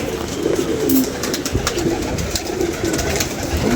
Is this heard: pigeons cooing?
yes